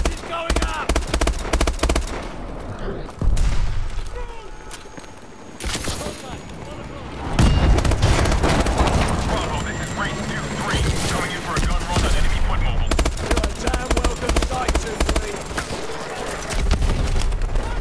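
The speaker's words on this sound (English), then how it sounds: "Pressure explosions." Explosions and rapid gunfire in Call of Duty: Advanced Warfare, loud bursts and booms with dense crackling fire that runs almost the whole time. Voices speak over the battle in places.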